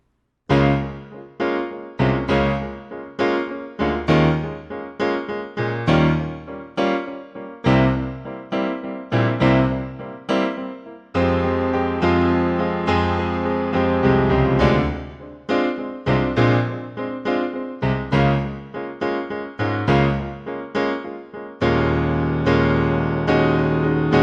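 Piano plays alone the bridge of a song, repeating bouncy detached chords in a steady rhythm, with a few longer held chords mixed in.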